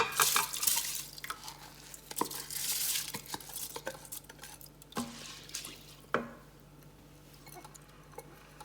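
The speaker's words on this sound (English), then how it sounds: "Now add rice." Rice poured into an Instant Pot, with scattered grainy rustles, clinks and stirring scrapes against the metal pot, fairly faint and irregular, alone without talk.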